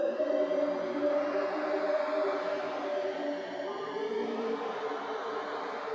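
A synth pad run through the RC20 Wide Air preset with the effect turned fully up plays as a sustained, hazy, wide chord at moderate volume, with a slight shift partway through and no voices.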